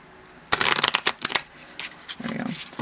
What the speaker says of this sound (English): just turn them over and shuffle them on the other side.